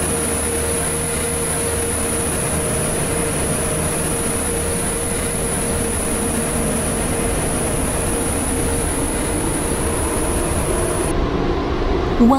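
A video game passenger train runs along the rails, a loud, continuous rolling rumble with a steady high-pitched whine above it that holds evenly throughout, with no voices.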